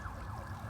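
A siren on a Hollywood street near Sunset Boulevard, heard as a brief rising and falling wail at moderate distance over a low traffic rumble, with no talking.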